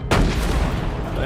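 A single heavy gunshot boom in the video game ReAnimal, sharp onset followed by a lingering rumbling tail, loud and close.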